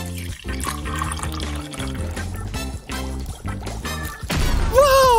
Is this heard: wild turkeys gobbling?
no